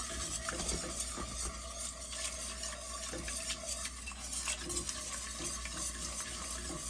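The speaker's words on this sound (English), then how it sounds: "to really move that whisk around and incorporate all of this" A whisk is worked by hand through a mixture in a bowl, giving a continuous rapid clatter and swish that stays steady and close throughout, with no talking.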